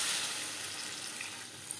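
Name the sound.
water being added to fish curry with potatoes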